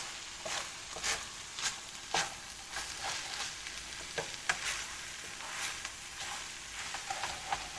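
Rice fries and sizzles in a non-stick pan for chicken pilaf, with a spoon stirring in irregular scraping strokes over a soft continuous hiss, fairly quiet.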